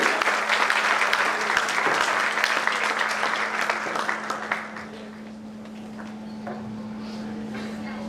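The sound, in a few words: audience applause welcoming guest speaker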